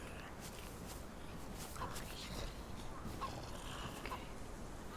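Chicken in the DayZ survival game clucking in a few brief, faint bursts over steady outdoor ambience, with a voice speaking nearby.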